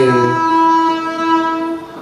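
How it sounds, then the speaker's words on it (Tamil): A train passes close by, its horn or whistle sounding as a sustained harmonic tone that fades slightly over two seconds with steady rail rumble beneath. "பக்கத்தில் ஆக்சுவலாக ட்ரெயின் போயிட்டு இருக்கு."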